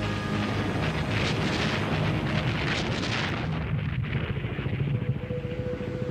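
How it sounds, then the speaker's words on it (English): Battleship guns firing across the waters of the Persian Gulf, a dense, sustained roar of heavy booms and rumbling that stays loud and continuous throughout. "her weapons echo across the waters of the Persian Gulf"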